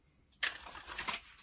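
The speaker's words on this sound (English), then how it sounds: "So I'm gonna do a shuffle" A deck of tarot cards shuffled in one brisk, riffling burst lasting under a second, close and fairly quiet, with no voices.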